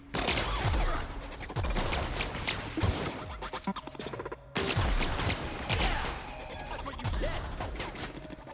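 Pistol gunfire in The Outer Worlds video game, with rapid sharp shots in clustered volleys and crashing impacts, loud and near, with a brief lull midway.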